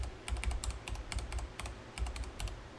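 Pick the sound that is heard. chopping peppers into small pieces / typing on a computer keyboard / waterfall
typing on a computer keyboard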